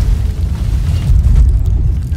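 A deep, rumbling boom rolls on steadily, a heavy low-pitched blast from a ship's cannon in Sea of Thieves, with no voices.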